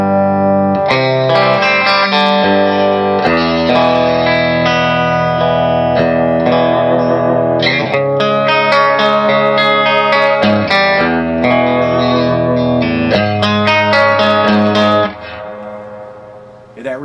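An electric guitar through a small Carr Mercury tube amp with reverb plays a continuous run of loud, sustained chords and notes with a reverb tail, ending in a quieter ringing decay.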